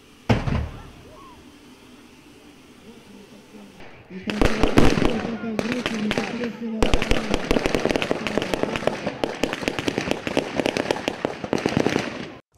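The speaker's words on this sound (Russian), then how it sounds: "водолазов, которые из-под воды ведут стрельбу и уничтожают условного противника" Divers firing weapons from underwater in an open-day demonstration at the Black Sea Higher Naval School, heard as a fast, dense string of sharp pops and bangs after a quieter opening, loud and close, with voices underneath.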